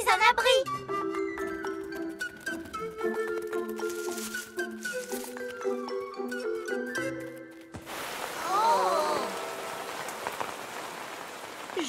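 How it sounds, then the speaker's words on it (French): Cartoon music plays, then gives way to steady falling rain with pattering drops and a brief swooping effect, continuing to the end. "Oh, on dirait qu'il va bientôt pleuvoir."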